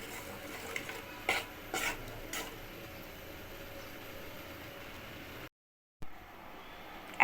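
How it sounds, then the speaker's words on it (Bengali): A turmeric powder and ghee mixture is stirred in a pot with the stove off, giving a few soft scraping strokes that are faint and spaced apart against quiet room tone, with no talking. "হলুদ গুঁড়া মিশিয়ে এখন আমি এটা ভালো করে মিক্সড করে নেব"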